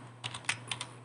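Quick bursts of close keystrokes clatter on a computer keyboard while a project for a Delta PLC position-control setup is being named, short uneven taps over a soft background hum.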